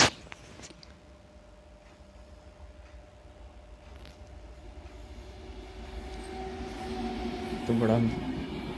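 A locomotive train passes on an Indian railway with a steady rumble that swells gradually, with a sustained tone over it and a brief, louder tonal burst near the end.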